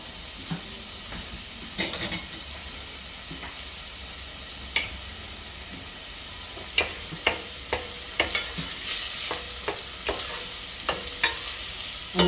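Beef mince and a medium onion sizzle in a pot while a utensil stirs and breaks up the meat, giving a steady hiss broken by repeated scrapes and taps.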